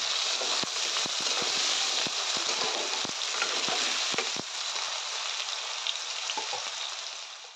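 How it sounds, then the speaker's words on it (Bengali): Small potato pieces fry in mustard oil in a wok, giving a loud, continuous sizzle broken by sharp scraping stirs that fade toward the end. No one speaks. "তো এই আলুগুলো এখন সুন্দর করে ভেজে নেব তেলের সঙ্গে"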